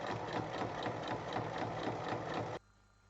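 A sewing machine runs steadily, stitching fabric strips sewn right sides together along their full length, with a fast even rattling whir close by that stops abruptly near the end, leaving quiet hum.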